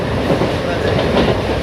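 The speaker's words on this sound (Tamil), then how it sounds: "இங்கேருந்து ட்ரெயினில் போகும்போது வியூ சூப்பர்" Steady, loud rumble and clatter of a train riding along the tracks past the Neyveli coal mine, heard from on board with continuous wheel noise and no pauses.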